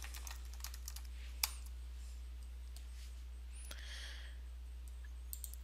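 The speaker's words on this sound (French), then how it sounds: "Donc ici, je tape le sujet de ma recherche." Typing a search topic on a computer keyboard, with sparse, faint key clicks spread over a steady low background hum.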